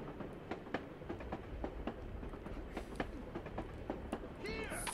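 A train passes in the Russian setting of Assassin's Creed Chronicles, with a steady rumble running through the whole clip, a run of sharp clattering clicks, and a rising squeal near the end. A voice is heard at the end.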